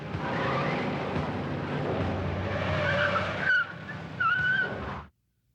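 Car tires on a Ford LTD squeal and skid loudly through a film chase with a hostage. The screech is sustained and the engine roars beneath it before stopping abruptly.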